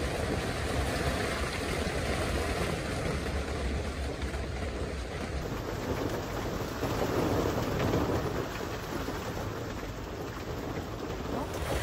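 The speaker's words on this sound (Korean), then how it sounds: "밖에 지금 천둥 번개치고 비바람 몰아치고 약간 날씨가 재난 날씨 같거든요." Thunderstorm rain and wind around a car-camping tent, a soft, continuous hiss of rainfall with gusting wind and faint low rumbles, heard from inside at a fairly quiet, even level.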